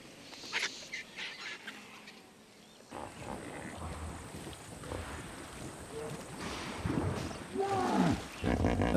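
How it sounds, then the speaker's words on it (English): Lion roaring in the Serengeti, with deep, rough roars rising out of a windy outdoor background and growing louder toward the end. "Africa's biggest reptile is facing up to Africa's best-known big cat"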